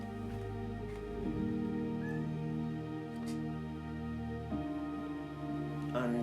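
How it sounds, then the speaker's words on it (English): Cats meowing in the background of an indoor room, a few drawn-out wavering calls rising and falling at moderate distance over a steady low hum. "if you're wondering what that noise is, that's I've got cats in the background"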